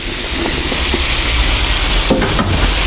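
Carrots sizzle loudly as they go into hot infused oil in a pan, a dense, steady frying hiss with a few stirring scrapes near the end.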